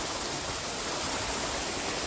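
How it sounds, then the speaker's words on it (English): Alexandra Falls in Mauritius flows as a continuous broadband rush of falling water, steady and even throughout without pauses, heard from a viewpoint at moderate distance. "you can see the flow of the waterfall, and you can hear as well."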